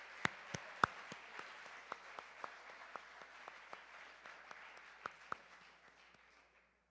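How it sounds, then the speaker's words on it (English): Quiet applause at an awards ceremony, heard from a distance: a thin spatter of separate claps, some louder and nearer, trailing off gradually over about seven seconds. "A round of applause for all of their efforts."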